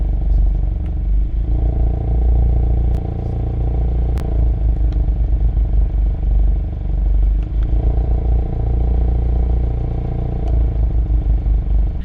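A 2021 Hyundai Veloster N's 2-liter turbocharged four-cylinder exhaust rumbles deep and steady at idle, its tone shifting as the exhaust valve opens and closes, with a few sharp clicks.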